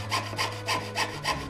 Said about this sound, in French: en collant le calque sur du laiton afin de pouvoir ensuite le découper à la scie